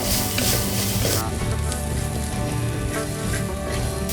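Shallots and curry leaves fry in hot oil, a loud, dense crackling sizzle that runs continuously and close, with a brief burst of sharper spitting at the start.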